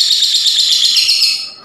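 Male lovebird in high breeding condition chirping in a loud, close, continuous burst of shrill, rapidly repeated high notes, fading slightly at the end.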